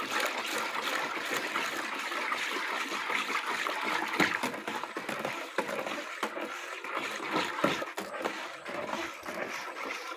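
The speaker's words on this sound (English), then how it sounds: "the next thing I'm going to pour in now is my SLS solution" Dissolved SLS solution is poured into a liquid soap mixture, giving a steady close trickle and splash of liquid that runs for about ten seconds with small uneven surges.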